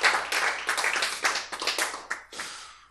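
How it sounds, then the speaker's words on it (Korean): A congregation claps together during a church sermon, a burst of dense hand claps that thins out toward the end, with no voices over it. "박수 한번 치죠"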